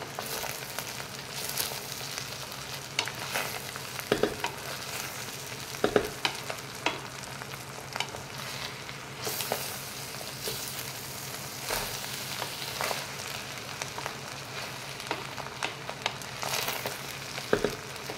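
Food frying in a pan while seasoning, sugar and ajinomoto are stirred in, a continuous sizzle broken by repeated sharp scraping and clacking strokes of a spoon against the pan, close and steady, with no talking.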